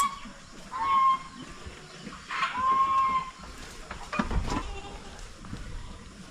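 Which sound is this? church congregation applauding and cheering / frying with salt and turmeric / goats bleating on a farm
goats bleating on a farm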